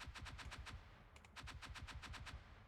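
Rapid bursts of spaceship weapons fire in a sci-fi deckbuilder video game, a quick string of about a dozen sharp electronic shots in two volleys with a brief pause between them.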